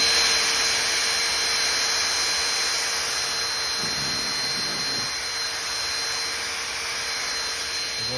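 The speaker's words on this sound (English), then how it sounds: "the Lanternfly Eliminator 5700. And you just suck them up." A RYOBI Lanternfly Eliminator 5700 vacuum runs with a loud, steady whining roar and tonal hum, sucking up spotted lanternflies outdoors, with slight dips in the drone midway.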